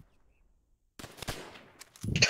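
Gunfire in Call of Duty: World at War, where silence gives way to a sudden sharp shot, then scattered cracks and a louder burst at the end, with no voices.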